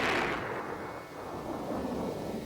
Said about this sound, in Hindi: मेघ कड़कने लगे, बिजलियां कड़कने लगी